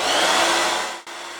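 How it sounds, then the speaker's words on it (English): A hair dryer blows with a steady whooshing hum, dropping out briefly near the end before starting again. "we're going to be grabbing our hair dryer, low and slow"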